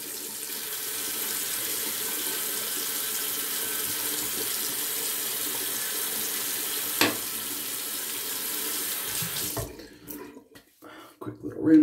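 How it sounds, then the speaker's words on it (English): Tap water runs steadily into a sink while a custom straight razor is rinsed, a constant close hiss of flow, then the stream cuts off near the end, leaving a few drips and handling noises. "Quick little rinse."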